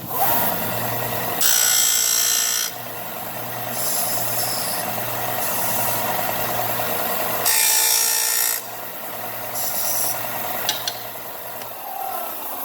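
A wooden pan flute pipe being sanded by hand, with repeated rasping strokes of varying length over a low steady background hum.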